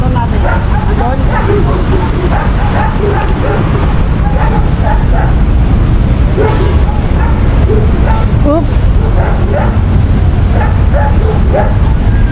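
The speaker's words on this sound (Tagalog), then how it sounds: "Ang daming aso." Several dogs bark and yip continuously outdoors, with a steady rumble of background noise and occasional voices mixed in.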